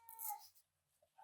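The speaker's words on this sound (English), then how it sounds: "I hear my cat in the background meowing." A pet cat meows in the background of a quiet art studio, one brief, moderately loud cry early on, then a fainter short sound near the end.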